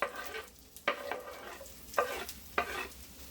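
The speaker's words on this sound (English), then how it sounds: "Now that the butter is melted, we're going to add our onions." Onions frying in melted butter in a pan, giving a quiet sizzle with several sharp scrapes and taps of a spatula at irregular intervals.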